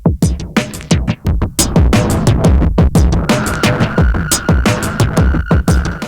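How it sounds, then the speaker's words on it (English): Drum beat heavily distorted through a Retromechanical Labs Electron Fuzz pedal, loud and dense with rhythmic crunchy hits, gritty buzzing decay and a sustained fuzzy tone running underneath. "the Retromechanical Labs Electron Fuzz, and distort the crap out of this beat."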